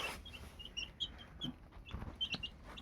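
Young chicks on a country poultry farm peep and cluck in scattered short calls while feeding, with faint pecking and shuffling in a quiet pen.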